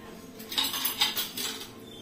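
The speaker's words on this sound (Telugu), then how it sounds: "మూత మూసేసి కాసేపు మగ్గనిచ్చేద్దాం" A metal pot lid is set and closed over a cooking pot with ginger-garlic paste in the kitchen, making a few close clinks and a rattling scrape that settle within about two seconds.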